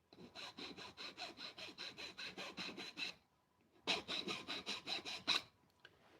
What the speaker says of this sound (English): Try to put a little chamfer on the bottom here.